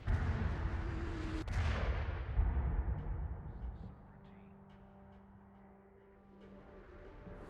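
Gunfire in the video game Damnation: one sharp, loud shot cracks out over a heavy low rumble, which fades after a few seconds into a quieter, steady tonal hum.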